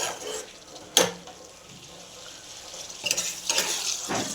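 Boiled peas in masala stir-fried in a pan for matar paneer: a low sizzle broken by a sharp spatula knock, then a cluster of scraping, clattering stirs near the end, close and fairly loud.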